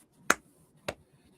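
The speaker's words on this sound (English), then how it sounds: "Can I golf clap? I'm golf clapping." Two soft golf claps, sharp and isolated about half a second apart, close and quiet against near silence.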